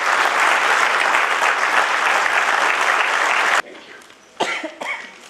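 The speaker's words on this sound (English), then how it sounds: "please give a very warm welcome. Big round of applause." Warm applause from an audience at a presentation, welcoming the officer Munawar Khursheed, strong and sustained for several seconds before stopping abruptly, followed by a quiet room broken by a couple of coughs.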